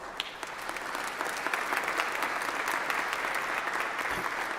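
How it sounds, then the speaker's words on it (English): Steady applause from a seated crowd at a university Founders Day convocation, honoring trustees who stand; even, moderately distant clapping that holds throughout. "Give them a round of applause."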